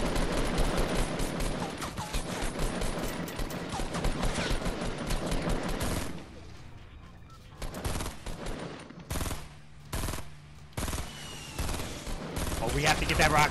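Automatic weapons fire rapidly in a Fortnite Battle Royale match, with dense bursts for several seconds, then a quieter stretch with scattered, separate shots and short volleys.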